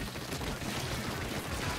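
Rapid ink-weapon gunfire in Splatoon 3 fills a dense, continuous burst of shots aimed at the player during a ranked Splatfest match.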